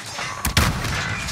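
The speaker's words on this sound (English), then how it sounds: "Stun grenade out." A stun grenade goes off in a first-person shooter game: a sharp, loud blast about halfway through, set against constant dense game noise.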